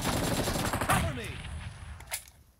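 Gunfire in the mobile shooter PUBG Mobile during a team deathmatch, a dense burst of rapid shots that thins out and trails off over a few seconds, with game noise and a voice behind it.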